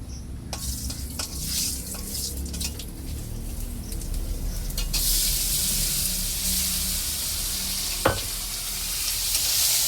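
Green chili paste, ginger-cumin paste, salt, turmeric and tomato fry in a pan for a fish curry masala, a soft stirring hiss that swells into a loud, steady sizzle halfway through, with one sharp clink near the end.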